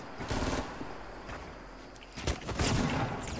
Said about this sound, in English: They're shooting down.